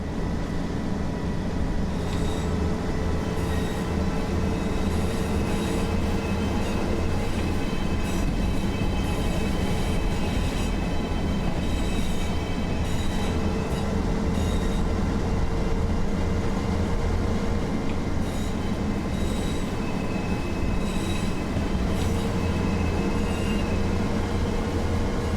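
Diesel multiple unit trains rolling through a railway yard in a train simulation game, a steady continuous rumble of wheels on track with faint squeals and clatter throughout, no voices.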